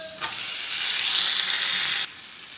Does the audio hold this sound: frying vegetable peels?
yes